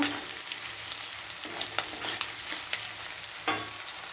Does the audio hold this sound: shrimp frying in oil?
yes